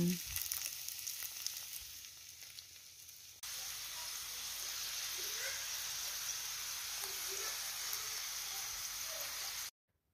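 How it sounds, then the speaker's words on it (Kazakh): Stuffed dough envelopes fry in a pan with a steady, hissing sizzle that starts abruptly after a short quieter stretch, holds evenly for about six seconds, then cuts off. "Осылай конвертиктерімізді бірінен соң бірін салып, жақсылап қуырып аламыз."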